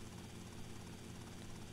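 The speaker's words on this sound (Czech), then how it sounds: "Tam je další vrtulník." A helicopter in the game GTA Vice City flies with a dense, steady rotor and engine roar, an even broadband wash that stays constant and faint throughout, with no talk.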